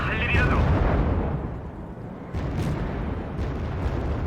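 Tank cannon fire and explosions in the strategy video game Wargame: Red Dragon, with T-72 tanks attacking: dense, rumbling booms that run continuously, with a heavy burst at the start and another sharp blast partway through.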